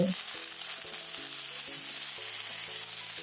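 Drumstick stalks and potatoes fry with spices in a pan, giving a soft, continuous sizzle under a faint repeating tonal hum, with light stirring in the background.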